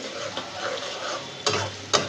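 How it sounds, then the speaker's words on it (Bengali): Ginger spice paste frying in hot oil in a pan, a steady soft sizzle with two sharp scraping stirs near the end, close and quiet, no talking. "সুন্দর করে পেস্টে আদা আদা ভাজা ভাজা করে তারপরে একে একে সব মশলা দিয়ে দিলাম"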